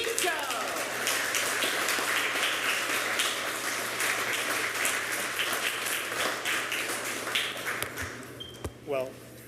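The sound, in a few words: applause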